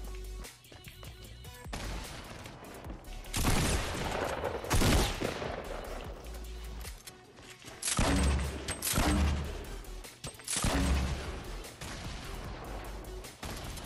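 Bursts of rapid gunfire in a Fortnite Battle Royale solo match, several loud volleys in quick succession with short pauses between them and no talk over them.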